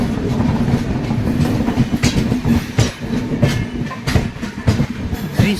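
The Digha–Visakhapatnam Express runs along the tracks with steady rumbling and rhythmic clickety-clack from the wheels, heard from inside the moving train.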